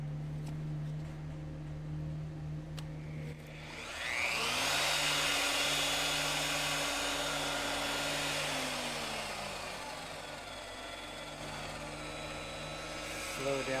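Power tapping drill with a torque-limiting clutch threading a hole slowly: a low motor hum, then a louder whirring spin-up that holds steady before easing off, close by with no talk.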